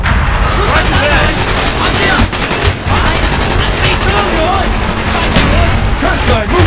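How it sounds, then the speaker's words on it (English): Dense gunfire in Call of Duty: Black Ops, loud overlapping bursts and shots rattling continuously with shouting voices mixed in. "You're taking fire!"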